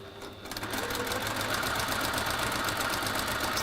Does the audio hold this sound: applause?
no